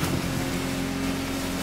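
Racing boats in the video game The Crew Motorfest, on the Hanauma Waters course, give a steady engine drone with a constant low hum, heard alone and fairly loud throughout.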